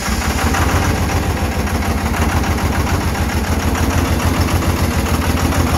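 A 24-valve Cummins diesel engine that has just had a fire-ring head gasket repair idles steadily and loudly up close, with a dense, even rumble and no talking.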